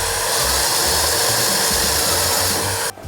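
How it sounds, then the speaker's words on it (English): A power drill fitted with a larger bit whines steadily and loudly while deburring a drilled hole in the rusty metal floor of a VW Crafter camper van conversion, running continuously before cutting off near the end. "tidy up this burr with a larger drill bit"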